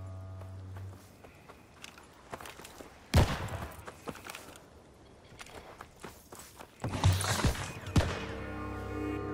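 Two loud, heavy shotgun blasts in Call of Duty: Vanguard, several seconds apart, with scuffing footsteps and quieter in-game movement noise filling the gaps between them.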